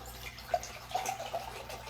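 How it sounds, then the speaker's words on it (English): Water trickles and drips into a glass jar in a short, quiet burst of splashes, with a small plink near the start and a few soft drips after it. "And then you add your water."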